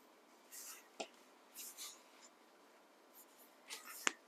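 Sheets of 12x12 craft paper are folded by hand in a quiet room, giving soft, brief rustles and crinkles with a couple of sharp taps as the fold is pressed.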